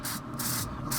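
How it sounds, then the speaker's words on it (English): Bursts of duck fat cooking spray from a can hiss over a whole smoked suckling pig on a Grilla Grills Silverbac pellet grill, three close hissing sprays in quick succession with no talking. "We're just gonna spray this pig"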